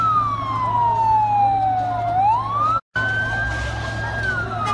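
Fire engine siren wails as the fire brigade arrives at a blaze in Dilovası, a loud, steady descending then rising tone that cuts off briefly and resumes, with street noise behind it.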